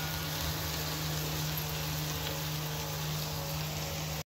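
Vegetables sautéing in a pan for a bread roll filling, a steady close hiss and crackle of frying with no pauses, under a faint low hum.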